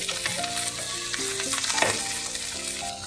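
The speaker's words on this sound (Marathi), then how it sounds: "आपण त्याला असं मस्त फ्राय करून घ्यायचं आहे" Semolina-coated pomfret and other fish sizzle as they fry in a kadhai, a dense continuous crackle that plays alone under steady background music.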